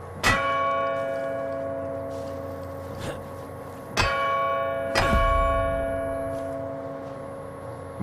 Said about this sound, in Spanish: hay que darle la campana